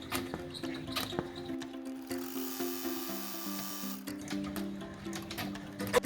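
Embroidery machine running a placement stitch through hooped tearaway stabilizer, rapid rhythmic needle chatter with short pauses and a brief higher whirring stretch, close and fairly quiet.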